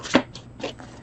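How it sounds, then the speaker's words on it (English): A deck of tarot cards is shuffled by hand: a sharp riffle burst, then softer papery flicks and slides in a loose rhythm, close and quiet. "One more shuffle."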